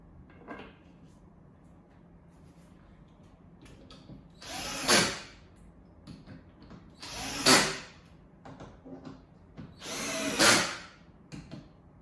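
A power drill bores countersink holes in a car bed platform during assembly, giving three short whirring bursts spaced a few seconds apart, close and fairly loud over a quiet background.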